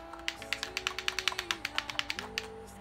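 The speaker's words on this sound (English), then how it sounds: "Georgie, the controller, like right now you can hear like the controller, it sounds like this." Rapid plastic clicks from video game controller buttons, a quick irregular run of sharp taps close to the mic over a steady electronic tone, with no talking.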